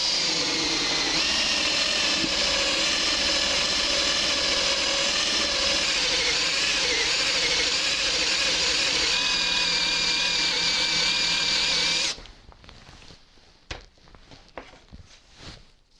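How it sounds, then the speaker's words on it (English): A hand drill fitted with a Forstner bit hogging wood out of a guitar body's pickup cavity: a loud, steady high-pitched whine for about twelve seconds, then it cuts off, leaving faint knocks and clatter. "I've just got a force nut in a hand drill which will do the same thing, and I'm just going to hog out the material"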